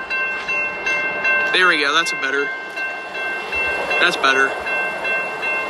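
A Union Pacific intermodal freight train, UP 2638, moves at the Massingale Road crossing. Two loud horn blasts sound over a steady rail rumble, and someone speaks briefly nearby.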